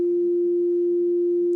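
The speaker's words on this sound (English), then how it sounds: "if I play the first harmonic" A pure synthesized sine tone, the first harmonic of an E note, holds at one steady pitch for under two seconds, clean and even with no other sounds.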